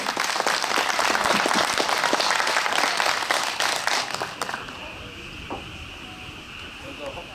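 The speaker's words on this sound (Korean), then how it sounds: "이 세 분을 위해서 우리 박수 한번 보내주세요." Audience applause at an evening outdoor chamber orchestra concert at a church's open-air stage, dense clapping for about four seconds that then thins and fades, leaving a quiet tail with a faint voice.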